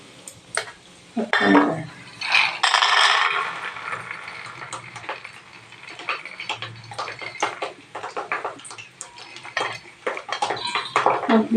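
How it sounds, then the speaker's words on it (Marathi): Peanuts roasting in a pan, stirred with a metal spoon: scraping, rattling clinks and rustling pan noise come and go in uneven bursts, loud and close, with a few quiet spoken words in between. "शेंगदाण भाजते"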